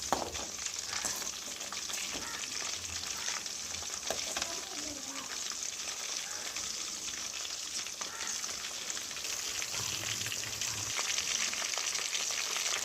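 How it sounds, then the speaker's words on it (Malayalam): Chicken pieces frying in hot oil in a pan are turned over, producing a loud, steady, dense sizzle that continues throughout with occasional soft stirring scrapes and no voices. "ഇതിനി നമുക്കൊന്ന് തിരിച്ചും കൂടി ഇട്ട് കൊടുക്കാം അങ്ങനെ തിരിച്ചും മറിച്ചും ഇട്ട് നമുക്കൊന്ന് ഫ്രൈ ചെയ്തെടുക്കാം"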